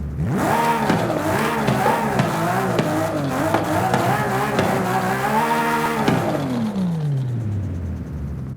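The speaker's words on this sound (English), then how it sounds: "we're going to rev the engine. We're going to hear this beautiful car." A Toyota Supra MK4 engine in Forza Horizon 5 revs loudly and continuously, pitch climbing and falling through several throttle blips before winding down, with a synthetic, game-like tone.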